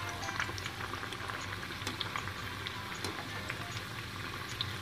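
Masala vada frying in oil on a medium flame, a dense continuous bubbling sizzle, steady and close, with no voices over it.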